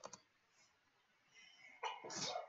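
A single sharp sneeze near the end, preceded by a brief catch of breath, close and fairly loud against a quiet background.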